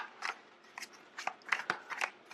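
Tarot cards handled and shuffled close up, a series of short papery snaps and riffles in an uneven rhythm with no talking.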